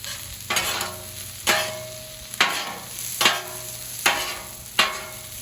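Mushrooms, peppers and onions sizzle on a 36-inch Blackstone griddle, a constant hiss broken by six sharp scraping stirs of a spatula at roughly even intervals, close and loud with no voices.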